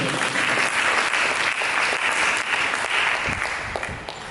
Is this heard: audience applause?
yes